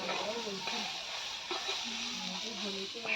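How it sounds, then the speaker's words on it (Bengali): Soybean chunks fry in a pan with a steady, close sizzling hiss, and a voice talks faintly underneath. "সোয়াবিন ভাজছে।"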